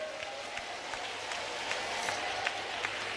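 A church congregation clapping together in a steady, dense patter of many hands, moderately loud and continuous throughout, with faint crowd murmur underneath.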